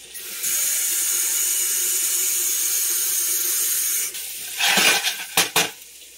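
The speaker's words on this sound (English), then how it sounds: "now I'm going to go ahead and just add in my water" Water is poured from a tap into a cooking pot for chicken stew, a steady close hiss lasting about four seconds, followed by a few short clattering knocks of the pot being handled.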